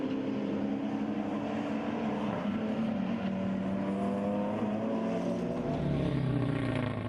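Race cars on a circuit's main straight roar past in a continuous, loud engine drone, with pitch shifting as they speed by and no voices over the noise.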